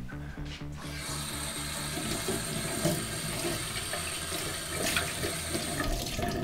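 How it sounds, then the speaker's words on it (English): Water runs from a sink tap over an espresso portafilter from a Bezzera Unica machine as it is rinsed, a steady close splashing stream with some rubbing and clinks, no talking. "I usually also clean it here in the sink."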